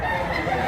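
A rooster crows amid a crowded market, its call blending into dense, steady background noise of people and other birds.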